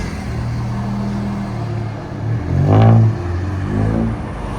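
A 1999 Honda with a stock manifold and downpipe, a high-flow cat and a Vibrant exhaust with rear delete idles with a low steady drone, then revs up close to a rising roar and falls back. A second, smaller rev follows.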